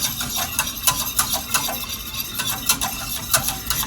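A spoon scraping and clinking against a pot of hot chocolate as it is stirred, with steady repeated strokes close by and a soft low simmer underneath.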